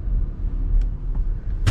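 A pearl white 2021 Toyota Highlander XSE idles with a low, steady engine rumble as it is moved slightly to the side, with a couple of short clicks near the end.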